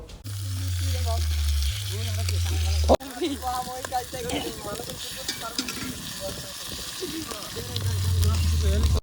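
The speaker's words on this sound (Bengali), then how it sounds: "এই যে আদা রসুন বাটাটা এটা এখন তেলের মধ্যে দিয়েছি, এটা ভাজবো।" Ginger-garlic paste fries in hot oil in a karahi, a steady sizzle running through, with a sudden sharp burst near the middle as the paste hits the oil, while a person talks over it.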